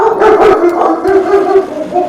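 A pet dog barks and howls indoors during a podcast, a continuous run of loud, close yips and bow-wows filling about two seconds.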